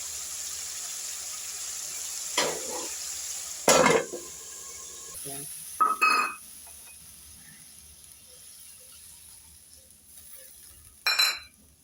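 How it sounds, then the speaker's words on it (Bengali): Spice paste for a chitol fish-head curry fries in a pan under a low continuous sizzle, punctuated by several scattered clinks and scrapes of a utensil stirring against the pan, close up with no voices. "এবার আমি একটু ঝেঁটে দিচ্ছি, মশলাটা কষবে।"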